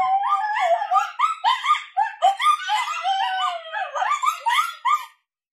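A Boss Coyote Mayhem Pak coyote call sound yips and howls in rapid, rising and falling bursts, clear and fairly close, stopping abruptly after about five seconds.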